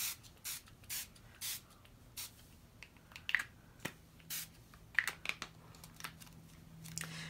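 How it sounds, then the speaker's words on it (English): Short bursts of spray from a spray bottle, about a dozen quick hisses spaced unevenly, close and fairly quiet, with faint handling noises between. "And just do a little spraying here and there."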